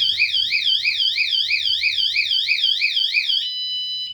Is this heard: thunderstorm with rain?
no